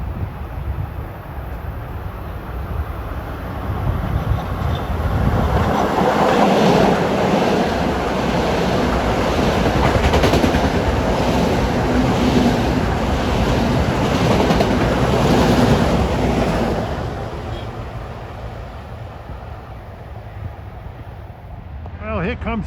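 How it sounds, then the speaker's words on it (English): LIRR train 120 from New York to Babylon roars past on track 2 of the Montauk branch at Rosedale station, a broad rushing rumble that swells, holds for about ten seconds, then fades, with a voice at the start. "here comes train 120 from New York to Babylon. Flying by on the Montauk branch"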